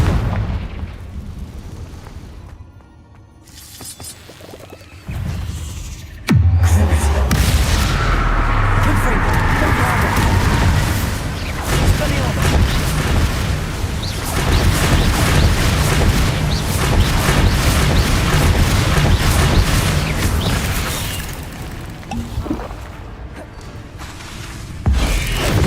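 Confringo fire spells blasting in the PS5 wizarding game Hogwarts Legacy: after a quiet start, a sudden heavy boom opens into a long, dense rumble of explosions and crackling that fades toward the end.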